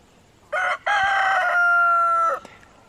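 A single rooster crows loudly and nearby during a solar eclipse in North Idaho, a drawn-out call of several seconds with a short break after the first note, chickens quiet around it.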